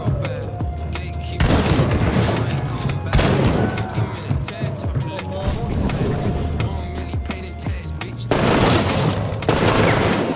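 Rapid, heavy video game gunfire from a team firefight, with loud overlapping shots and booming bursts that continue throughout, briefly thinning before surging again.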